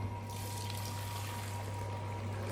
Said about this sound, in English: I'm going to pour a whole lot. And pour this back into the pot.